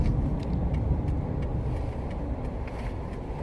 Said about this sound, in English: Let the bus pass because I'm merging into their lane.